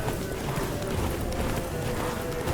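Horse hooves clip-clopping at a run in The Witcher 3: Blood and Wine, a steady rapid hoofbeat rhythm over a dense in-game ambient bed, fairly loud and continuous.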